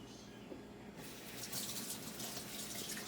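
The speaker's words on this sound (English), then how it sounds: "Wash my hands." A tap runs steadily into a backyard sink while hands are washed after handling raw eggs. The water starts faintly and swells into a louder gush partway through. No one speaks.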